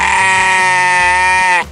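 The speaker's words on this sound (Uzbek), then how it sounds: "Qo'y nima qilyapti bu yerda?" A sheep bleats in one loud, sustained, slightly quavering call that stops abruptly near the end.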